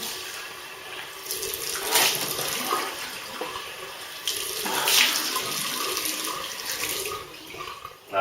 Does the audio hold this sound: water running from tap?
yes